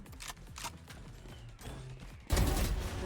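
Gunfire in a shooting video game: several rapid shots over steady game sound, then a loud, dense burst of firing near the end.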